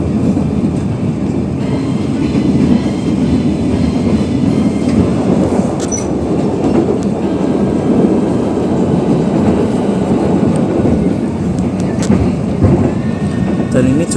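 Loud, continuous rumble of a passenger train running on rails, steady clickety-clack and faint wheel squeal heard from close by inside the moving train.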